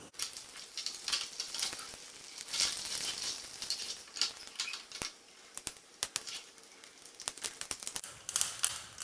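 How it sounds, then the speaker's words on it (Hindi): Chana dal and urad dal sauté on a low flame for coconut chutney, sounding like a quiet, uneven crackle and patter of small popping bursts, with faint stirring scrapes and no talking. "अब इसमें 1 चम्मच चना दाल और 1 चम्मच उड़द दाल ऐड करेंगे और लो फ्लेम पे सौते करेंगे।"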